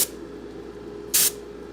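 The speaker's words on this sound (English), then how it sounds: "Blower's going off." An air blower in a woodturning and casting workshop runs with a steady, droning hum, broken by one short, loud burst of hissing air.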